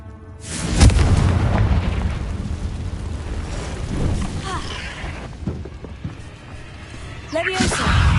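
Confringo blasting spells in a wizarding video game set off booming explosions, a heavy blast followed by rumbling decay, then further bursts, with a voice speaking between them.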